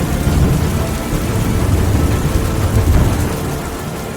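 Winter storm in California with torrential rain and thunder, heavy rain pouring steadily while low thunder rumbles roll underneath, loud and continuous.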